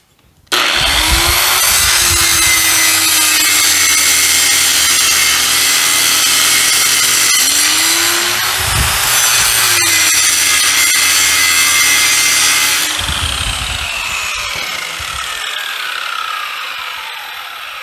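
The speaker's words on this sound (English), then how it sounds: "See if we can try to bog the machine down." A power tool runs hard through a piece of wood under load, giving a loud, steady whining roar. Its pitch sags and recovers as it strains, with a knock partway through, before it spins down at the end.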